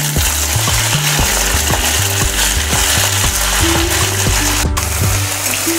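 Fenugreek leaves are sautéed in hot oil with green chillies in a pan, giving a loud continuous sizzle with a rhythmic rattling scrape of the spatula throughout and no talking.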